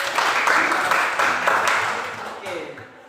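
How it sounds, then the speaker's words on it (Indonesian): Students in a junior high school religion class give a short burst of clapping that fades out, with a teacher's voice mixed in over it. "tepuk tangan untuk"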